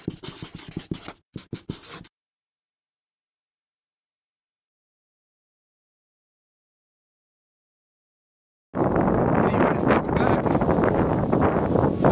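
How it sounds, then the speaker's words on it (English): Wind buffets the microphone outdoors in a front yard with a rough, steady roar, after a few brief scratchy bursts and a long stretch of silence. "it's windy, it's always windy in the front yard"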